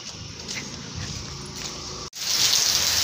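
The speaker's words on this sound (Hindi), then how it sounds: "सुबह सुबह कितनी ज़्यादा बारिश लगी है" Heavy rain falling in the early morning at a hilltop spot near the Noorpur fort, a steady close hiss of downpour that breaks off briefly and then returns louder and brighter.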